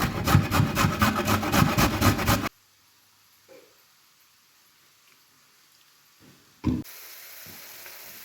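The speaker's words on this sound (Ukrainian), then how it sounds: "Я зараз на крупну тюрочку потру морку." Rapid, rhythmic rasping of a carrot being grated on a coarse grater for a couple of seconds, then near silence with a few faint knocks.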